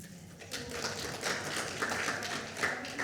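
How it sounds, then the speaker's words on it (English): Audience applause at the close of a conference talk on participatory governance: a steady, moderately loud wash of many hands clapping for about three seconds, with no voices. "We can give her another clap"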